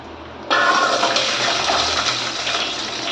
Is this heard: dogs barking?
no